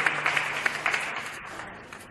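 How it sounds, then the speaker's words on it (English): A conference audience breaks into steady applause, many hands clapping together in a dense, sustained patter that slowly fades over about two seconds. "Let us give a big clap to Dr. Sunita Ji."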